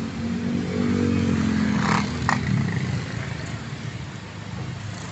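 Motorcycles ride past on a busy city road, their engines rising and then fading with some clattering, while general traffic noise continues underneath and people talk quietly.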